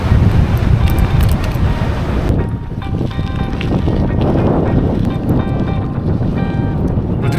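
Strong headwind buffets the microphone while cycling uphill on a forest road, a loud continuous rushing roar that eases slightly after the first couple of seconds.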